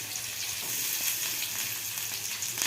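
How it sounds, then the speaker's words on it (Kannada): Cumin and mustard seeds fry in hot oil with a dense, even sizzle and faint pops, close and continuous for a few seconds. "ಎಣ್ಣೆ ಹಾಕಿ ಅದಕ್ಕೆ ಜೀರಿಗೆ, ಸಾಸಿವೆ ಹಾಕಬೇಕು. ಜೀರಿಗೆ, ಸಾಸಿವೆ ಚಟಪಟ ಅಂದಮೇಲೆ"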